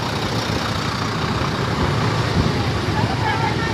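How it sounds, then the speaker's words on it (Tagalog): Heavy road traffic streams past an overturned tanker on a busy highway, a steady loud rumble of trucks, buses and cars with no break, faint voices mixed in. "Taas sa traffic ay."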